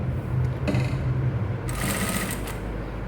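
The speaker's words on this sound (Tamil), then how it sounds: "நான் மேல் பக்கம் நல்ல பக்கமாக இந்த துணியை வச்சு தைச்சிக்கிட்டு இருக்கேன்" Sewing machine stitching cloth for a basic seam, with a steady close mechanical rattle that grows brighter and faster partway through, alone without speech.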